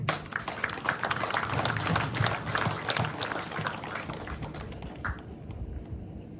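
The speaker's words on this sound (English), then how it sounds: "We should applaud them." An audience claps at an International Women's Day outreach gathering in Parishara Village, South Rupununi, a dense, steady patter of many hands that gradually thins out toward the end.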